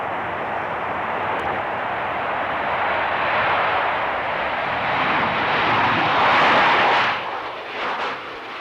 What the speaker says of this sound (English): 22 aeroplanes standing out there waiting to take off, all with their bloody engines running.